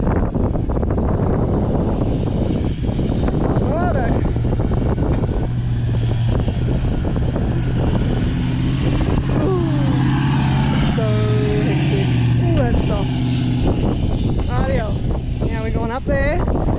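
Strong wind buffets the microphone in a constant loud roar on a long straight road across the Nullarbor, with a vehicle engine running and people talking throughout.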